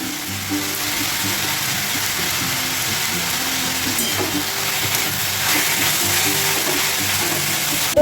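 Tomato paste sizzles steadily in a hot pan while chicken thukpa is cooked, a continuous close crackle with a few soft scraping stirs.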